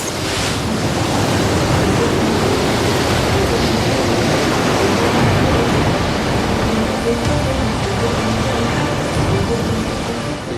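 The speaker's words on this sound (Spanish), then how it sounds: "apareció un feroz vendaval de fuerza 10" Loud, roaring gale-force wind blends with the crashing wash of heavy ocean waves, a dense, unbroken storm rumble for the whole stretch.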